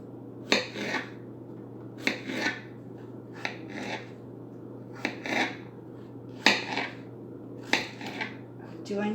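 A knife chops pickles into small chunks on a board: about seven separate bursts of scraping, rasping cuts, each a short cluster of strokes, close and moderately loud over a steady low hum.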